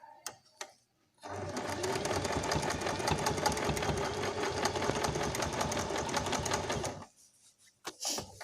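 A sewing machine stitches piping onto a long gown in one continuous run of rapid, even mechanical chatter, close and steady for several seconds, with a few soft clicks and handling noises before and after.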